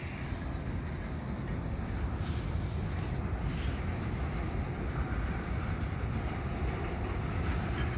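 CPKC GP38-2 and SD40-2 locomotives shove an oil train, a steady broadband rumble and rolling roar of heavy railcars held constant and loud throughout, with no voices.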